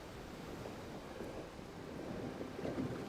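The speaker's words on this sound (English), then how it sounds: "Wind is still pretty tough. With all the white caps, it's hard to see a feed." Strong wind gusting over open sea with white caps, a steady low roar of wind and rushing water, moderately loud and unbroken, no voices.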